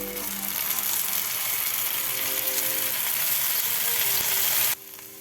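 Melon seeds dropped into a hot pan with fried ginger for a Dhaba-style paneer masala sizzle and crackle loudly and steadily up close, then the noise cuts off abruptly near the end.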